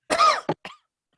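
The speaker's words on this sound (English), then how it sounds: "I'm developing a dry cough." A dry cough from one person: a longer rough burst followed by two quick shorter hacks, close and clear, with silence after.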